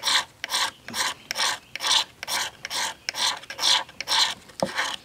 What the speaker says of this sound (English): you want to scrape some of the magnesium off before you even get started